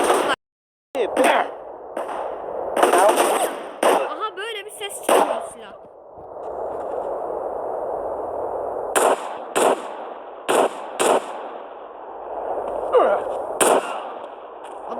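Video game gunfire rings out in sharp bursts of shots, loud and close, broken by short pauses and mixed with voices talking over the play.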